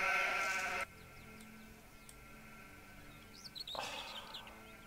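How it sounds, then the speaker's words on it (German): Video game sheep bleat loudly in a rural Anno 1503 settlement, a dense burst of bleating that cuts off sharply, then returns after a quieter stretch filled with bird chirps. "jetzt sind wieder diese unglaublich nervenden, Schafe"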